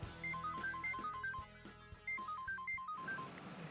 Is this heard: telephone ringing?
yes